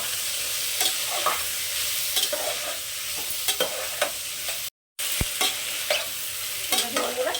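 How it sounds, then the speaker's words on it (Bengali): Vegetables, including peas, sizzle steadily in a hot pan for methi pulao while a utensil scrapes and stirs in short, repeated strokes, with one brief silent gap. "এগুলো আমি এখন আর ভেজে নেব ভালো করে"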